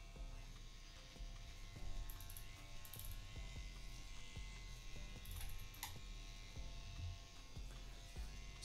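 A tattoo machine powered by a wireless power supply runs nearby with a steady electric buzz and a mains-like hum, unbroken for several seconds.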